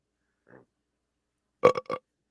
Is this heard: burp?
yes